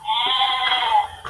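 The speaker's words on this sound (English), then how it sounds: "he always opens a door to reveal a goat" A goat bleats once, a loud, sustained wavering call lasting about a second, close and clear with no other sound around it.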